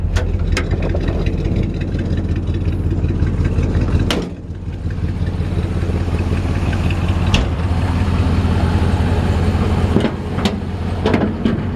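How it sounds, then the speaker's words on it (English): A 1955 Ford F100 pickup with a period-correct Y-block V8 idles steadily up close, a continuous low rumble with a brief dip in level around a few seconds in and no talk. "So this is a period correct Y-block V8."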